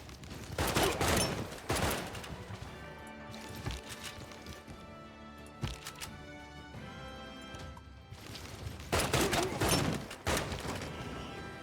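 High-level tank units open fire in the strategy game Civilization VI, sending out bursts of heavy gunfire and crashing impacts in loud clusters, with quieter stretches between them over a bed of background music.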